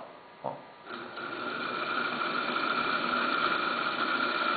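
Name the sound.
small electric motor running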